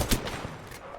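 A gunfire barrage in the video game Apex Legends, a quick burst of several sharp shots, one loud crack at the start then fainter rapid pops, with no talk over it.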